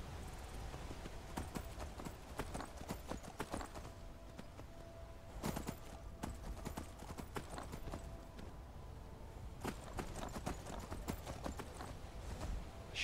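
A horse's hooves clip-clop steadily in Skyrim with the Requiem mod, a walking rhythm that pauses briefly and then resumes, fairly close and clear over low ambient game sound.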